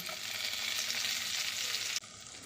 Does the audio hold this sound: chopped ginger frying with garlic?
yes